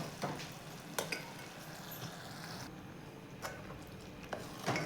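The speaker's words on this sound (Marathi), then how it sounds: "विलायचीची पूड चासणीमध्ये घेऊयात छान मिक्स करून।" A spoon stirring sugar syrup with cardamom powder in a pan, soft scraping and swishing with occasional light clinks against the metal, quiet and close over a low background hiss.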